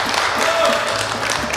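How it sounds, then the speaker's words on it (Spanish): A studio audience on a Colombian public television talk show claps in a brief, full burst of applause, steady and fairly close. "Fuerte el aplauso."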